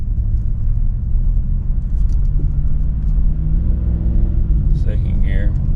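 A gas-powered Ford Super Duty truck pulls hard in first gear while towing a heavy load up a steep grade, its engine rumbling low and steady close by, with someone talking over it.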